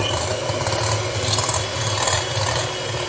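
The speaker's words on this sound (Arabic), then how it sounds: "وغادي نطرب داك البيض والسكر ونرجع معاكم" Eggs and sugar are whisked together for a yogurt and lemon cake, a steady, continuous rasping beat close by with no talking.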